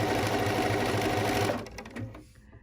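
A sewing machine stitching gentle curves in a quilt with silk finish thread, its steady rapid whirring running for about a second and a half before slowing and stopping.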